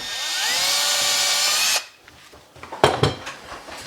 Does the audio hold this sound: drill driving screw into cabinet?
yes